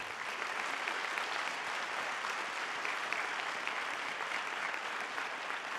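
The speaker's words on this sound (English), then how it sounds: "Let's give our students one last round of applause." Sustained audience applause at a high school National Honor Society induction ceremony, steady and dense clapping filling the room for the whole stretch without a break.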